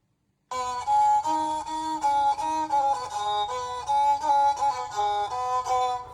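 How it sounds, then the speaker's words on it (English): Kumli Ang, the bowed guitar-like string instrument of the Karbi tribe, plays a sustained, droning melody with rich harmonic overtones, steady and close, bowed phrases shifting pitch slightly without any voice. "guitar-like string instrument called Kumli Ang, which on its own sounds kind of like this."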